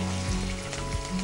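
Ginger, green chili and garlic paste sizzles softly in a hot pan, a light, even frying hiss under a steady background hum.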